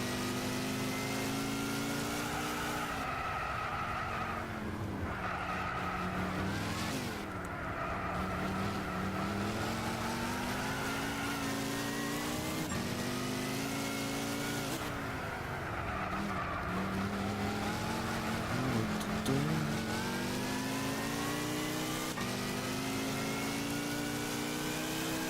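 Race car engines in Gran Turismo 6 with a Corvette close by, steady loud whining revs rising and falling through gear shifts, with occasional tire squeal, continuous throughout.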